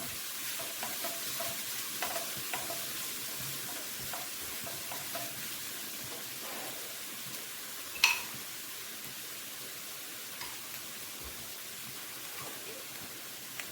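Fish curry cooking in a pan gives a soft, steady sizzle, with light scraping stirs and one sharper clink partway through, quiet and close, no speech.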